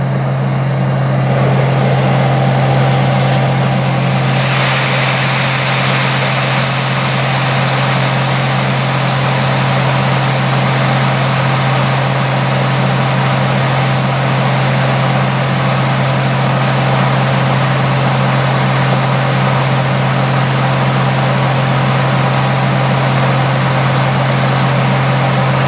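A combine harvester unloads corn into a rear hopper at night during a corn harvest, its engine droning loud and steady with a constant low hum and broadband rush throughout, no talk.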